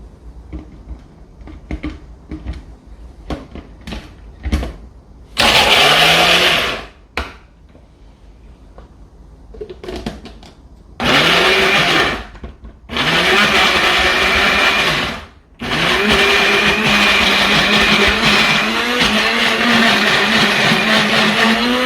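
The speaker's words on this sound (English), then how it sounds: "And then you can start with your blender." A blender whirs loudly in several bursts, pulsing on and off with short pauses, blending olive oil into tapenade, after a few sharp knocks and clatters at the start.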